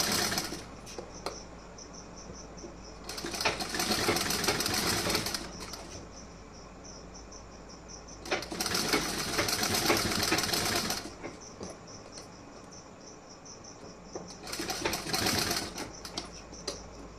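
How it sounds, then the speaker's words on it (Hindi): A sewing machine stitching a blouse runs in three bursts of rapid mechanical whirring and clatter, each a few seconds long, separated by quieter pauses with faint handling sounds. "इसे आप फोल्ड कर देंगी, ऐसे स्टिचिंग कर देंगी इसी तरीके से।"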